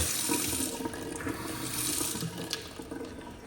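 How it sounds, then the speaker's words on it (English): Steady rush of water pouring from a tap into a sink, continuous and fairly close, with no talking. "We got water."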